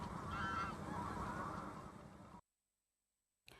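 A flock of geese and other wetland birds honking loudly together in a South Asian wetland, dense overlapping calls that cut off abruptly into silence before a brief return.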